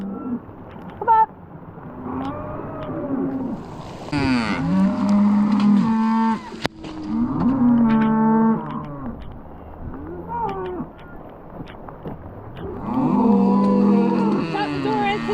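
Several cows moo repeatedly on wet pasture, long low calls overlapping one another, close by, with a few short bursts of other noise between them.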